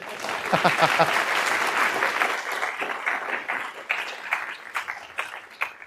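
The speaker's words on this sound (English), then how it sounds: "Give him a round of applause, everybody." An audience applauds a guest lecturer in a classroom setting, a dense burst of clapping that swells early and then thins into scattered claps, with a brief voice and laughter near the start.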